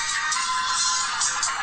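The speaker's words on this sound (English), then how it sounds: "Phone's ringing." A phone ringtone chirps in a bright, warbling pattern, fairly faint and heard on its own with no talking over it.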